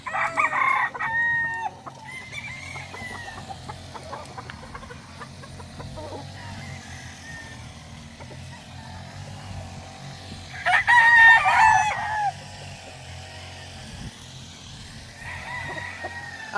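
Young local roosters (stags) on a Filipino farm crow several times, with a loud burst near the start and another in the middle, among other fowl clucking and low farm background noise.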